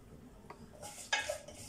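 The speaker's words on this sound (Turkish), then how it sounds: "Bugün de içine şehriye kavuracağım tarhananın." Vermicelli toasting in oil in a cooking pot for tarhana soup, with a utensil scraping and clinking against the metal in a few short strokes over a soft background, close and quiet.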